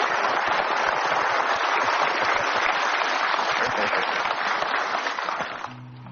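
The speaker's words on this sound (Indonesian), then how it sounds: "kita berikan aplaus yang paling meriah untuk Mustafa Bisri dalam puisinya" An audience claps steadily and densely after a poetry recitation by Mustafa Bisri, the applause holding loud and even before tapering off at the end as a low tone enters.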